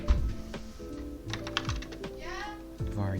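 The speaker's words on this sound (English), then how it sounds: "We're going to be typing out some of our functionality." Rapid typing of code on a computer keyboard, a close, busy clatter of keystrokes lasting a few seconds with a faint voice in the background.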